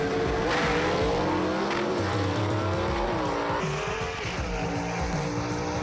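Gasser drag race cars, the Moonbeam and the Patriot, racing down the strip: loud sustained engine roar with shifting pitch, near and continuous, without talk.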